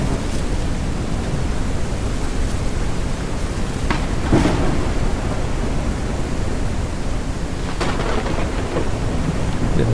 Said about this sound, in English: Getting a little creeped out with the storm